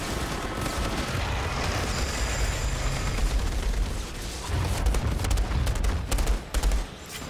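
Outriders Worldslayer combat during an incursion, with dense overlapping gunfire and heavy booming impacts rolling on continuously, loud and chaotic, with a short dip before the shooting picks up again.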